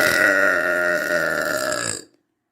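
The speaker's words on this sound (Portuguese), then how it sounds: "Arrote comigo por um dia." A single long, loud, drawn-out burp with a rough buzzing tone lasting about two seconds, ending abruptly into silence, with no other sound around it.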